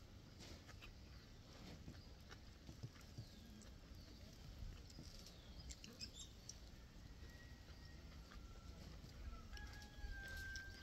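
Chickens cluck and chatter faintly in a noisy outdoor setting, with scattered short calls over a steady background hiss and occasional thin chirps.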